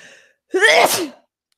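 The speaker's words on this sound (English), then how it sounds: "I'm gonna sneeze." A single loud, sharp sneeze close up, preceded by a brief soft intake of breath, then silence.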